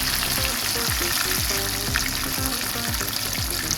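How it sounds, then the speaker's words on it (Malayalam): Mackerel fish frying in a pan over a medium flame, giving a continuous, close sizzle with bubbling crackle throughout and occasional scraping, with no talking. "നമ്മളൊരു മീഡിയം ഫ്ലെയിമിലായിരിക്കണം നമ്മളത് വറുത്തെടുക്കേണ്ടത്."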